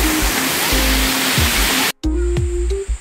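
A waterfall on a farm lot in Guinyangan, Quezon, roars in a loud, steady rush of falling water. The sound drops out for a moment partway through, then returns just as strong.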